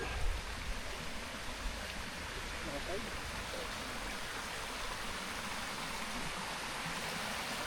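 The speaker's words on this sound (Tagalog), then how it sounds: "Ito yung ilog." A river flows past a motocamping site, a continuous broadband rush of moving water heard up close and steady throughout, with a few faint knocks near the start.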